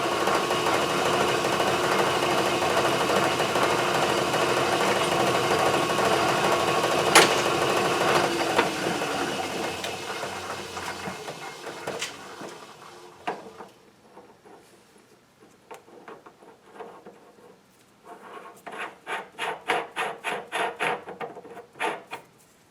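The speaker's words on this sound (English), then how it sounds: "I have to take a wire brush to the edge of those threads to clean them up" Wire brush and file scraping over the cut ends of bolt threads in a shop, building a tailstock: a steady abrasive rasping for about ten seconds, then quieter, broken rubbing strokes and a burst of short repeated scrapes near the end, close and fairly loud.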